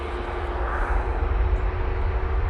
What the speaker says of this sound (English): I just had that TUI Dreamliner touchdown